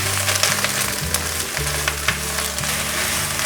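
Wheat gluten and cabbage stir-fried in a wok, a steady loud sizzle with bursts of scraping and tossing from the spatula, close and continuous with no talk.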